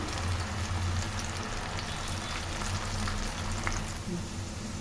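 Prepared potatoes frying in a pan, a constant close sizzle with a low background hum, fairly even throughout with faint stirring touches and no clear speech.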